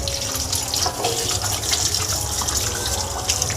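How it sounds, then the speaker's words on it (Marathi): Fresh cleaned mackerel (bangda) are rinsed under a running kitchen tap for a Konkani-style fish curry, a steady close gush of water splashing into the sink throughout with no talk. "आता धुवायचे ना जे आहे ते धुवून घेऊया"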